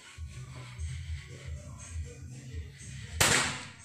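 A Predator Jaguar AJS PCP air rifle fires at a dry kapok target during a 50–70 metre accuracy test. Low, quiet background rumble gives way to a single sharp, loud crack of the shot near the end.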